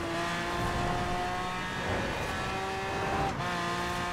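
A Mosler racing car in Forza Horizon 4 drives on a snowy dirt dune with winter tires, its steady engine drone holding close and loud with tonal whine throughout, easing slightly before picking back up.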